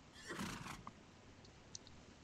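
A horse in a video game battle gives one short, breathy neigh near the start, followed by faint scattered clicks and quiet background noise.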